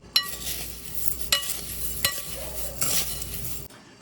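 Dry pickling spices, black pepper, yellow and black mustard seed and coriander, are stirred together with a utensil, giving close scraping rattles in a few short bursts with no talking.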